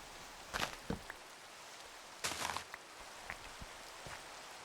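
Rain falls in a video game as a steady soft hiss, broken by a few sharp louder drips and splashes, with no voices present.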